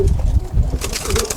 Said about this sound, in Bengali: তো আরো কিছু কবুতর আছে, সেগুলো দেখবো।